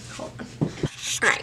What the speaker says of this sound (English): Sorry that my dog is now barking at me.